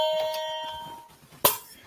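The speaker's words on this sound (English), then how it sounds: "I bought a couple of wireless doorbells. So when I press this, I get the doorbell thing going on" A wireless doorbell chimes with a ringing tone that fades out, and then a sharp, bright click or ding comes close to the end.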